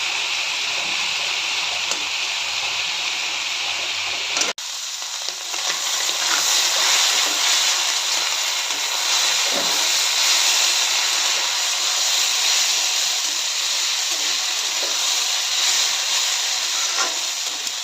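Small kachki fish fry dry in a pan for chochori, a loud, even sizzle and hiss that swells after a brief break and continues steadily with faint stirring scrapes, no voices.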